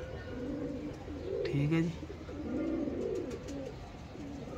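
Pigeons coo in low, soft, rolling calls that rise and fall in two short phrases, close by, with a brief spoken remark over them.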